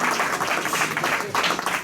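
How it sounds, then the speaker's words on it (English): Rotary Club members give the staff a round of applause at a December meeting, a loud continuous patter of many hands filling the room throughout. "Let's give the staff a round of applause again."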